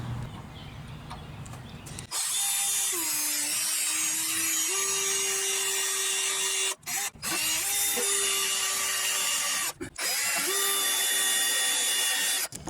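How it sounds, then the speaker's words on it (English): A power drill with a small bit whirs loudly up close, boring pilot holes for an onboard air compressor manifold in several sustained runs separated by brief pauses, its pitch shifting slightly under load. "You take my drill, boom, boom, for a couple holes."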